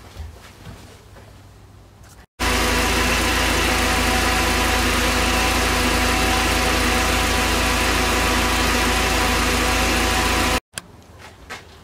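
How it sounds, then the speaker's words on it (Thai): A Mercedes-Benz W124/W202 with the M111 engine idles steadily during warm-up, a loud, even hum running unbroken for about eight seconds between quieter moments at either end. "เดี๋ยวเราจะรันเครื่อง10นาทีนะครับผมแล้วเราจะทำการถ่ายนะครับ"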